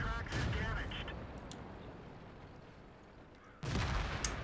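Tank cannon fire in the video game World of Tanks, with a sharp shot at the start and another abrupt blast near the end, separated by a quieter stretch of rumbling battle ambience.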